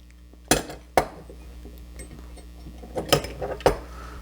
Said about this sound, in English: take a lime, a fresh lime always, chop in half, get 1/2 for your squeezer